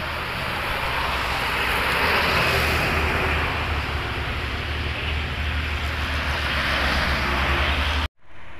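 A loud, steady engine roar with broad rushing noise from a Lorena intercity bus passing close by on a highway, holding for several seconds before cutting off abruptly.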